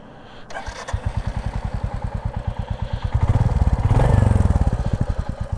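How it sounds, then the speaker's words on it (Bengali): A Royal Enfield Classic 350 motorcycle starts up and idles close by. Its single cylinder gives a loud, rhythmic thumping through the silencer exhaust, and the beat quickens and swells in a short rev before settling back. "এখন বাইকটা রাইড করব, তবে রাইডের আগে আপনাদেরকে বাইকের সাউন্ডটা একটু শোনাই।"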